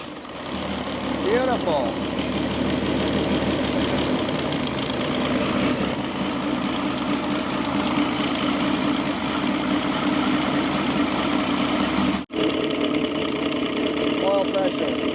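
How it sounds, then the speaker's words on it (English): A 1960 Pontiac wagon engine, started after sitting 34 years, runs at a steady, loud idle throughout, with a brief dropout near the end and a person speaking briefly over it. "we'll kind of work the throttle a little bit while we crank it, because the idle should be kind of up a little higher"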